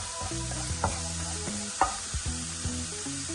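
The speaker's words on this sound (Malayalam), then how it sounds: "അതിലേക്ക് നമുക്ക് 2 ചെറിയ സബോള കുനുകുനാന്ന് അരിഞ്ഞത് ഇട്ട് കൊടുക്കാം." Finely chopped onions with a pinch of salt frying in a pan, with a soft sizzle and several spatula scrapes and taps, fairly quiet and close, no talk.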